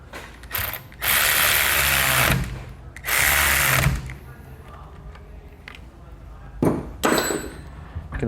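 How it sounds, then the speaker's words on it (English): A fifth wheel hitch is bolted into a 2019 Ford F-350 bed, its bolts tightened with a 9/16 socket and a 7/32 Allen key; two loud bursts of whirring power-driver rattle alternate with quieter clicks and clanks, close up. "then we're ready to snug them down. We'll use a 9/16 socket and a 7/32 Allen key."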